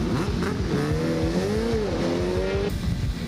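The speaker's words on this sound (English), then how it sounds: "Sounds like it wants to rev." Superbike engine revving at the VIR race track during a WERA National 4-Hour endurance race, a loud, close, rising and falling howl with rapid pulsing over a busy trackside background.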